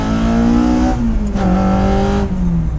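A car engine fitted with individual throttle bodies revs hard and close, holding a loud, raspy, steady note that steps down and climbs again between shifts across the whole stretch, with no talk.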